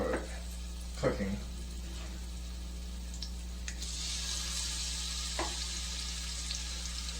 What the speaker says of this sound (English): I can hear the tomatoes boiling or cooking.